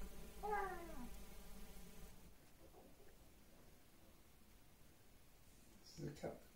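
A cat lets out a clear, drawn-out meow while digging under a blanket, loud and close at first, followed by soft rustling and a faint later sound; a person speaks quietly nearby.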